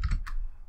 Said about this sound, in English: I do apologize if the keyboard's a little bit loud.